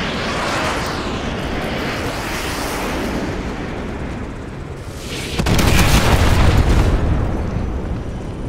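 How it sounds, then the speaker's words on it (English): Artillery shells slam down in Call of Duty: Modern Warfare 2 Remastered, loud booming blasts over a roaring battlefield, with a sharp, heavier impact midway followed by sustained rumbling. "Call in artillery on those vehicles. Fire mission received. Artillery inbound. Coordinates confirmed. Firing."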